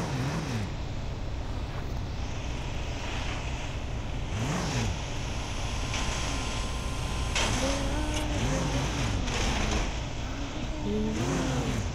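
A Porsche's engine in the Car Simulator 2 video game hums steadily while the car is parked in a garage, with a few rising and falling revs and short tonal blips over a constant motor drone.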